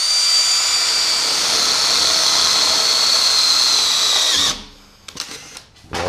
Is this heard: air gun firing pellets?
no